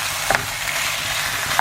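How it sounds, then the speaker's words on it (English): Roast potatoes and vegetables frying in a pan give a steady sizzle, with a couple of quick scraping stirs from a utensil. "I'm just going to give that a little stir."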